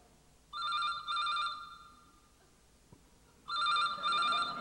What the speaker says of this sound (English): I think a telephone's ringing, sir.